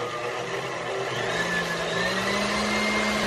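Electric mixer beating a homemade face cream, a steady continuous whir with a slowly rising hum, running alone without talk.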